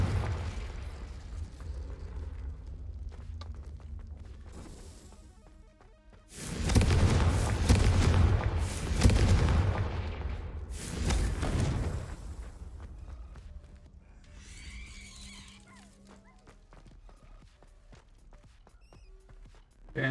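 A Confringo fire spell detonates in a video game: a loud, booming blast with rumbling debris that swells, then trails off into quieter footsteps and ambient game noise.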